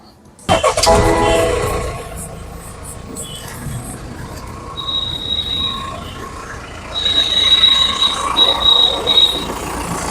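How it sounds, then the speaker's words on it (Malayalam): A BMW X1 engine cranks into life with a sudden loud burst, then settles into a steady running hum with high thin whining tones rising over it, close by and without speech. "അപ്പോൾ നമുക്കിനി ഈ വാഹനം ഒന്ന് സ്റ്റാർട്ട് ചെയ്തതിൻ്റെ സൗണ്ട് ഒന്ന് കേൾക്കാം"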